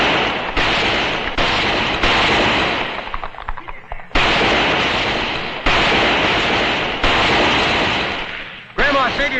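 Gunfire rings out in a Western shootout, a series of loud close shots with ringing tails spaced irregularly, a quieter lull with scattered clatter midway, then more heavy blasts and a short burst of shouting at the end.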